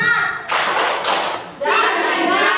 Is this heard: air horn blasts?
no